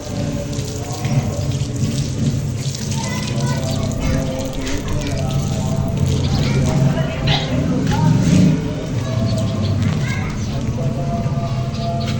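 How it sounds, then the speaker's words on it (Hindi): Water splashes and patters steadily onto plants, close and fairly loud, with people talking over it for most of the stretch. "मैडम जो है हमारी जो है इस वक्त लगा रही हैं पौधों को पानी"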